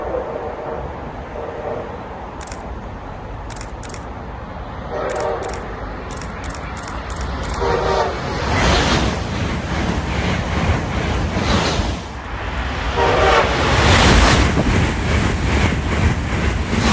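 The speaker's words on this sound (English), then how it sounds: "This one final Acela will close out the day, bringing an end to our Boston-bound adventure" An Amtrak Acela high-speed train rushes past at Mansfield, Massachusetts, a broad roaring wash that swells toward the end, with short high horn-like blasts early on and wind buffeting the microphone. Some talk may be present.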